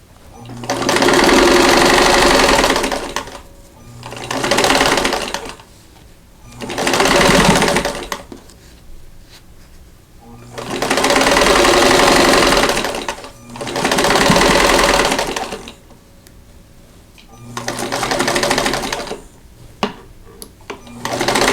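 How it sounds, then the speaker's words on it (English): Sewing machine stitching a quilt block seam in loud, close bursts of rapid whirring, about six runs of a few seconds each separated by short pauses. "and we'll sew this on."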